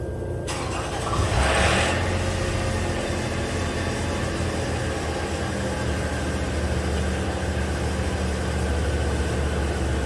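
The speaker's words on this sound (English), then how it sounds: "So we're going to start it now and run it up to temperature." A 2008 Toyota RAV4 with a coolant-loss problem is started from cold. The starter cranks briefly, then the engine catches and settles into a steady, loud idle that hums on without any talk.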